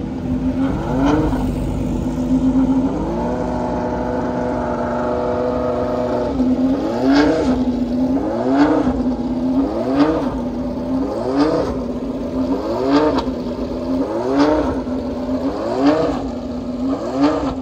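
A race car engine at Road America during the 2023 WeatherTech race weekend idles loudly, then revs hard again and again in quick, regular bursts about every second and a half, close by and unbroken by talk.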